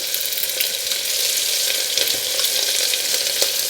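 Chopped onions sizzle hard in hot oil in a pan while being stirred for kwati, a dense, loud, continuous frying hiss with faint scraping throughout, close up and without speech.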